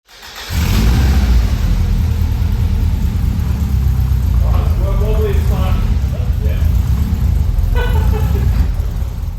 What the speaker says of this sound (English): What you can see here is a real dodgy setup just to get the car running.